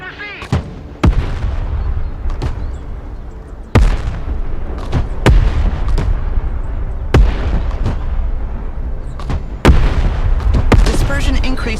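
Mortar rounds fire and shells burst in the war game Broken Arrow: sharp, heavy booms land one after another at irregular intervals over a rumbling battlefield bed, with a radio voice talking between shots.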